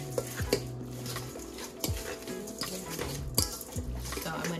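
A salmon cake mixture is stirred with panko breadcrumbs in a bowl, giving soft, irregular scraping and knocking sounds from a utensil against the dish, fairly quiet and close.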